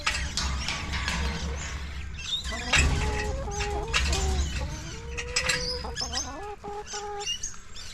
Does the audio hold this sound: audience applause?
no